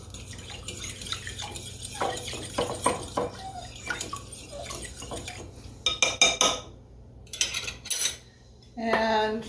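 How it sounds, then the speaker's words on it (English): Utensils clink and scrape against a bowl while waffle batter with vanilla is stirred, a series of irregular sharp taps and knocks growing louder toward the end, with a wet mixing sound underneath. "And I'm going to stir this up."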